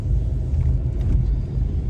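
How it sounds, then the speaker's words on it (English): A 1994 Chevrolet Corsica being driven, its low engine and road rumble steady and close throughout with no other sounds on top. "right now I'm driving a 1994 Chevrolet Corsica"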